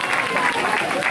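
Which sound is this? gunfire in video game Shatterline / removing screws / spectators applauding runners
spectators applauding runners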